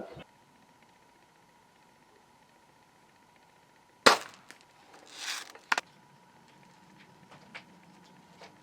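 A single sharp gunshot from a gun fitted with a homemade laser sight made from a solar garden light, cracking out loudly after a quiet stretch, followed by a brief laugh and scattered faint knocks.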